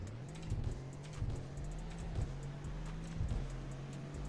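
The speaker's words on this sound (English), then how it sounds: "Oh, I love the turbo noises." A video game turbo car engine accelerating in Roblox hums steadily at a low pitch with faint whooshing turbo sounds layered over it, fairly quiet and continuous throughout.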